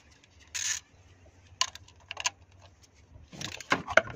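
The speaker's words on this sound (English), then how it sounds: "then grab your ratchet" Ratchet working a spark plug into a VE Commodore engine: a few short, separate bursts of clicking and scraping, fairly faint and close, with quiet gaps between them and no talking.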